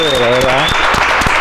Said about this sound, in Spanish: creo que merezco un aplauso a estos campeones venezolanos